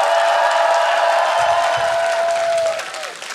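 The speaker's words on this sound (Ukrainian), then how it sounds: "эти аплодисменты тоже вам" A television game-show studio audience applauds in a steady, loud wash of clapping, overlaid by a sustained musical tone, before the sound drops away near the end.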